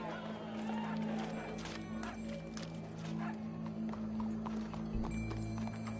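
Rhythmic horse hooves clip-clopping steadily in the video game Red Dead Redemption 2, over a constant low hum and background noise, with faint voices now and then.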